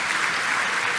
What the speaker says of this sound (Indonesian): Tepuk tangan yang paling meriah buat.